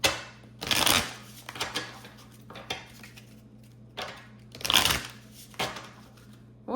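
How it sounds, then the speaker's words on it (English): Tarot cards being shuffled and drawn, several short crisp riffles and slaps in bursts separated by quiet gaps, close and fairly soft over a low steady hum. "let's get a few more cards out here."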